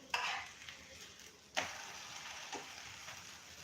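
Malpua made without deep-frying is flipped in a pan and cooks with a faint, steady sizzle, with a couple of soft scraping clicks from the turn near the start.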